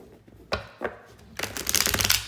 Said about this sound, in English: Spirits asked me to shuffle 3 more times